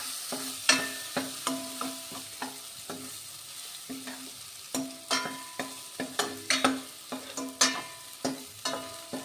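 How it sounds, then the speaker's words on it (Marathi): Vegetables for Bhogi bhaji sautéing in a pan, a soft background sizzle broken by a steady run of sharp spatula scrapes and clinks against the pan, irregular but frequent, with no one talking. "छान परतून घेतोय."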